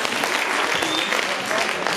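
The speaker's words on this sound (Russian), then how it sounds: "Аплодисменты." Dense, steady applause fills a hall during a school KVN league final in Khasavyurt, a large audience clapping continuously at moderate loudness.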